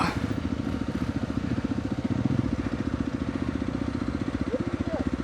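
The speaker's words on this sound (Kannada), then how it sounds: "ಒಂಚೂರು ಮೀಡಿಯಮ್ ಆಗಿ ಥ್ರಾಟಲ್ ಕೊಡಬೇಕು." A motorcycle engine thrums with rapid, even pulses under moderate throttle on a forest trail, a close and steady chugging that runs throughout.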